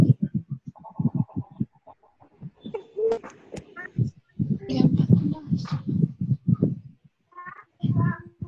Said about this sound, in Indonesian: Wah, ini ada yang suara ayam, ini siapa?